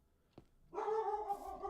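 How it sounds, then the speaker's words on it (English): A dog barks once faintly, then lets out a longer whining, howling vocalization from somewhere in the background of a quiet room. "you might hear my dog barking"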